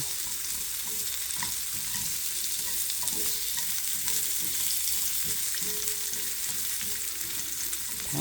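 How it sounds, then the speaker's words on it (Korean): Orange and purple carrots stir-fried lightly in olive oil, an even sizzle with a regular rhythm of spatula stirring and scraping, close and steady with no speech. "이렇게 올리브유에 살짝 일단은 볶아줍니다. 음, 주황당근, 자색당근 같이요."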